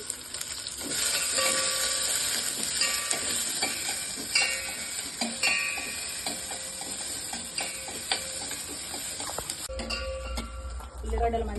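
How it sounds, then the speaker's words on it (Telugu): Onions, cumin, dried red chillies and green chillies fry in a pan for a tomato rasam, giving a steady close crackling sizzle with occasional stirring clinks and scrapes throughout. "ఉల్లిగడ్డలు మంచి ఫ్రై అయ్యాయి."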